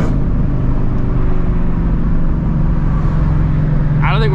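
Straight-piped Shelby GT350 exhaust, a loud continuous engine drone heard close up through the whole stretch, with crackling backfire pops buried in it; a brief higher chirp comes near the end.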